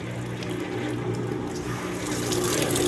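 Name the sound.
Maytag commercial washer pump draining water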